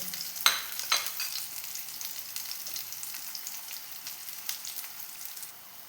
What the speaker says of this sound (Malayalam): അണ്ടിപ്പരിപ്പ് മുന്തിരിയും വറുത്ത് എടുത്ത്